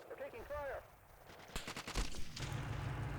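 Bursts of gunfire erupt in the Steel Beasts military simulation during a Ukrainian assault on Russian forces, several loud rapid shots cracking after a stretch of engine rumble, with a steady low mechanical drone continuing underneath.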